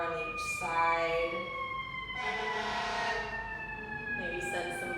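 Emergency vehicle sirens wail outside, their sliding tones carrying steadily at a distance beneath quiet indoor sounds, with traffic noise rising and falling as they pass.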